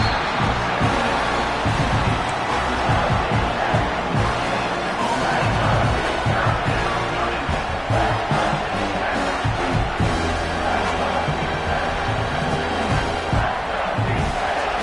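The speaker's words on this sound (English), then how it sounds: "And the crowd coming to life here, trying to help this defense down in the red zone." A stadium crowd at a football game roars continuously as the defense holds in the red zone, dense cheering and yelling throughout with a commentator talking over it.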